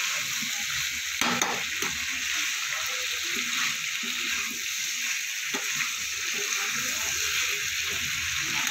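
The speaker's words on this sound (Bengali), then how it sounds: "সমস্ত মশলার সাথে কচুটা আলুটা আমি একটু কষিয়ে নেব" Taro and potato pieces sizzle and fry in hot oil with spices, a continuous crackling hiss broken by occasional stirring scrapes, close and steady throughout.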